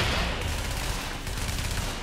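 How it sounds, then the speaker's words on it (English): Shotguns firing in the video game The Division, a dense, continuous barrage of rapid overlapping shots and rumbling blasts, loud and steady throughout without talk. "I just see the shotgunners in the corner of my eye firing their little shells"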